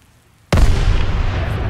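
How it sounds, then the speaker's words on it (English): A massive explosion blasts open the gates in Call of Duty: WWII, hitting suddenly after a quiet moment, then rolling into a long, loud rumble of debris and echo. "hold your fire till they blow the gates"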